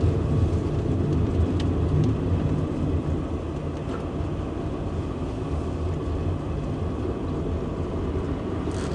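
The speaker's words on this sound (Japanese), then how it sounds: "車が来た。" A car approaches on a road near a tunnel, a low steady rumble that builds and holds throughout, faint and broad with no voices over it.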